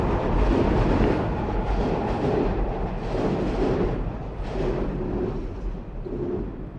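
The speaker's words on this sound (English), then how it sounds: "train going by." A passing train, its steady broadband rumble and clatter rising and falling in waves over several seconds, fairly loud and close, with no talk.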